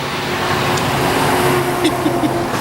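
A UPS delivery truck drives past on a road, its engine a steady broad rumble that holds for a few seconds with a couple of louder swells, not especially loud.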